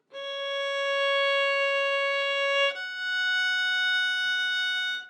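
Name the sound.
violin playing Gymnopedie with one-beat pause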